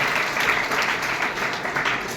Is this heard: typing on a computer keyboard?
no